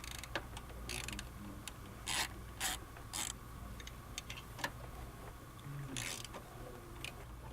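Ratcheting clicks from a hand ratchet loosening fender fasteners on a Ford F150, heard as several short, sharp bursts spread across a quiet background with faint mechanical ticks between them.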